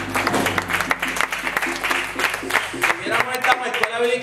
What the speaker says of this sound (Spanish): Vamos a darle un aplauso.